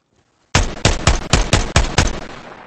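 Close, loud automatic fire in Ground Branch, a quick string of about nine evenly spaced shots lasting around two seconds after a moment of near silence.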